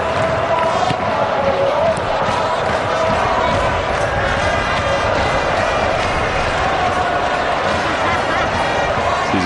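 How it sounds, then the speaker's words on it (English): Stadium crowd at a Vietnam vs UAE football match in the 2007 AFC Asian Cup, a dense, constant roar of cheering and noise filling the whole stretch, loud and unbroken. "wonderful excitement level in the crowd every time Vietnam go anywhere near their front half of the field"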